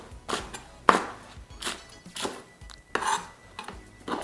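Fresh herbs and roots for Jamaican green seasoning are rough-chopped with a knife on a cutting board, giving a series of irregular close thuds and scrapes with no talking.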